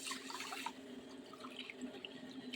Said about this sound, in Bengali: আমি কাপ দিয়ে মেপে জলটা দিচ্ছি